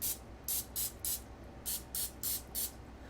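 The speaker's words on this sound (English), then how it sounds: "Maybe I'll do half of them with the cooking spray and half without." Cooking spray misted onto a donut pan in eight short, even hissing bursts, close and clear against a quiet background.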